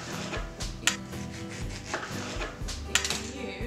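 Knife chopping a clove of garlic on a cutting board in a kitchen, a quick run of close, crisp taps with a couple of sharper knocks, no talking.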